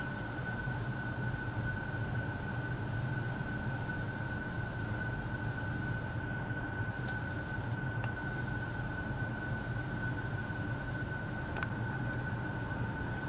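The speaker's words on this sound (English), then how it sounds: "While we're waiting for the train to pass" A train passes by while a stopped Indian Pacific passenger train waits, giving a steady, unbroken low rumble with a faint sustained whine on top, fairly distant and even in loudness throughout, with no voices.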